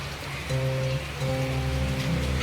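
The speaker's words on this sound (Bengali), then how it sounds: "বৃষ্টি পড়ছে" Rain begins falling on a cloudy day, a steady hiss of drops heard up close without talk, joined by a low continuous hum.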